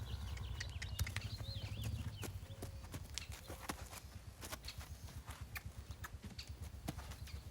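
Steady clip-clop of hooves on a hard surface, a regular walking rhythm close by, with faint birdsong in the background.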